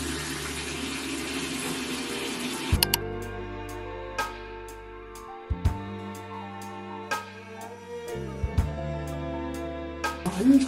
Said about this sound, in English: I use hot water to wash my face and the cold water to rinse off my face.